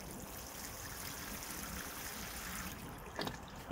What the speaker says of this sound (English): I'm just gonna give them a good watering.